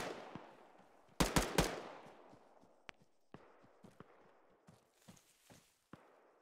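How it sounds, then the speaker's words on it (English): Incoming gunfire in Arma 3 on the Lythium map, a quick cluster of sharp cracks followed by scattered distant single shots and thuds spread over several seconds. "I think we're taking shots from the southwest."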